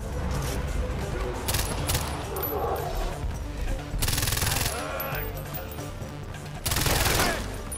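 Rapid bursts of automatic gunfire ring out during a driving sequence in the Far Cry 4 video game, with loud clustered volleys and booms over engine noise and occasional player talk.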